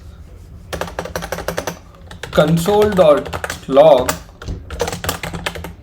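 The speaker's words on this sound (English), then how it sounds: "let me add another file, temp.ts" Rapid clicking keystrokes on a computer keyboard while someone writes TypeScript code, coming in quick bursts close up, with someone speaking over the middle of the typing.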